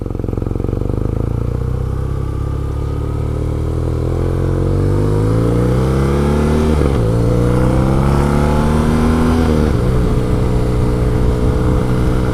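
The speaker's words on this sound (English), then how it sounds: "Even the exhaust has a nice note to it, and this is the standard exhaust on the bike." BMW R nineT Urban GS motorcycle on its standard exhaust, a steady loud engine drone with rising harmonic sweeps as revs climb through two accelerations, no voices.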